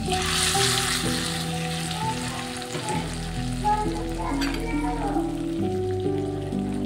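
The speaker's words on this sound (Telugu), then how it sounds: "ఇప్పుడు ఈ తాలింపు మనం పప్పులో యాడ్ చేస్తాం" Loud, steady sizzling and crackling of a hot oil tempering poured into mango dal fills the whole stretch, with no pauses.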